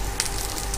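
Chopped onion frying in a pan while burger patties are being prepared, giving a steady close sizzling hiss throughout.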